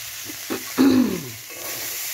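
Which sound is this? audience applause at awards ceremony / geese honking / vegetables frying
vegetables frying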